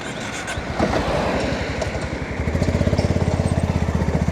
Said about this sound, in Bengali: এবার গাড়িটা স্টার্ট করছি।